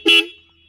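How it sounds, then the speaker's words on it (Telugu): Horn of a 2024 Royal Enfield Continental GT 650 motorcycle gives a single short, loud, bright honk that stops abruptly and leaves a brief fading ring. "ఒకసారి హార్న్ సౌండ్ విందాం."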